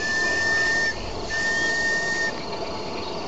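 The steam whistle of a model Western river steamboat: two clear, sustained whistle tones with a short gap between them, over a steady hiss of steam.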